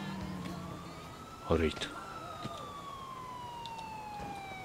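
An ambulance siren in GTA IV wails with a long sweeping tone that slides steadily across the scene, while a sharp thud and a single brief spoken word cut in midway.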